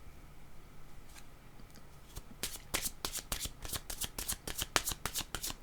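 Tarot cards being shuffled: a few light taps, then a brisk run of rapid papery riffles and clicks, close and clear with no talk.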